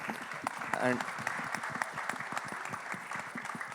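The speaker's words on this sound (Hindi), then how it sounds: "सो बस उनके लिए जोरदार एक बार तालियां हो जाएं" Steady audience applause fills the room at a Bhool Bhulaiyaa 3 film event, with a swell near the start and some voices mixed in throughout.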